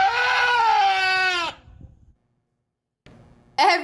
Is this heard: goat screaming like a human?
yes